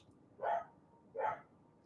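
A neighbour's dog barks twice, two spaced mid-pitched woofs heard from a short distance over a low background hum, with no talking.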